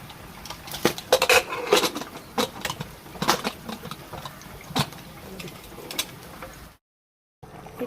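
A metal lid is fitted onto a pressure cooker in a home kitchen, a series of close clinks and scraping knocks at irregular intervals, followed by a brief silence.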